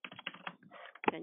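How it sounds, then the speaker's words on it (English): Someone typing on a computer keyboard during an online work-group meeting, a quick uneven run of soft key clicks with short pauses, close and fairly faint, no voices. "we can hear whoever is typing on their computer"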